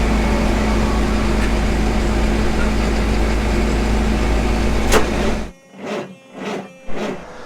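A 6x6 spud truck engine drones loud and steady while driving in fifth gear, then cuts out abruptly, leaving a few faint rumbling swells as it coasts.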